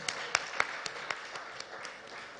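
Distant, scattered clapping from a small crowd at an awards ceremony, a few sharper claps standing out over a steady background hum.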